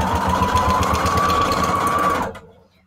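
A sewing machine runs a straight stitch on junk journal embellishments, a loud steady close-up whirring hum with rapid needle rhythm for about two seconds before it stops abruptly.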